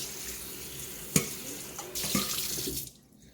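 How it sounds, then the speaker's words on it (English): Steelhead salmon roe being rinsed under a running kitchen tap, with a sharp knock followed by a steady close hiss of water into the sink that stops abruptly near the end. "And just give it a little rinse."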